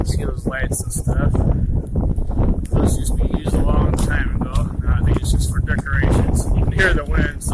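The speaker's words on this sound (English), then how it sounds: "Hear the wind, so sorry about the wind." Heavy wind buffets the microphone in loud, continuous low rumbling gusts while a person talks over it throughout, beside the St. Clair River at Desmond Landing.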